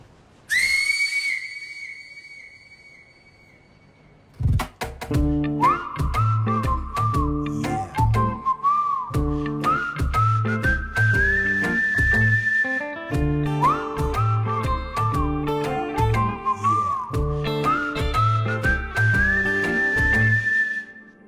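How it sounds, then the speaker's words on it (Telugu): Whistle blown at half-time in a comedic film scene: a brief shrill whistle blast opens, followed by loud continuous music with steady rhythmic beats. "అయితే హాఫ్ టైం విజిల్ని కొట్టేద్దాం."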